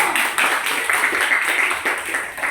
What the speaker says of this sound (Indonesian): Kasih tepuk tangannya untuk ibu.